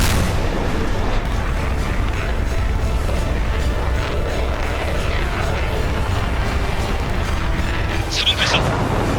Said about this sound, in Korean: 순항 미사일입니다. VLS 개방. 발사 준비 완료. 1번 발사.